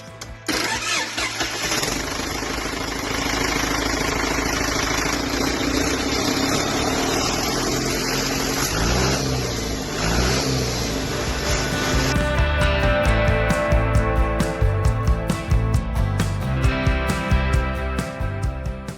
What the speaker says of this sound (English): Okay, the motor's cold. Now slowly roll over.